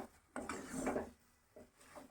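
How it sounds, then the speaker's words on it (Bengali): A pot of pitha mixture being stirred, with a few scraping, clattering strokes of a utensil against the pot, fairly faint and close, separated by short pauses. "এবারটা একটু নেড়ে চেড়ে নেব"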